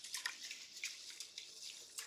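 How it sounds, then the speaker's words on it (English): A little water is poured into a bowl of uncooked rice for washing: a faint, close trickle with light splashes and drips, no voices. "Get a little water in there."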